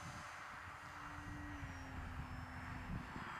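A Hobby King Durafly Tundra V2 1300mm RC plane flies nearby on its maiden flight, its steady electric motor drone holding at moderate loudness with a gently shifting pitch throughout, over faint outdoor background noise.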